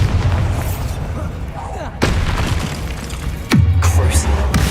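The Bombarda blasting spell goes off in Hogwarts Legacy. Two loud, sharp explosive booms land a second or so apart, each followed by a low rumble, while a voice speaks over them.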